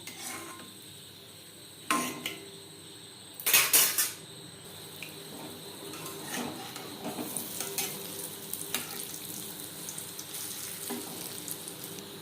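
Lentil boras for doi bora deep-fry in hot oil under a soft, steady sizzle, punctuated by sharp metallic clinks and scrapes of a utensil against the pan and a few louder clatters, close by with no voices.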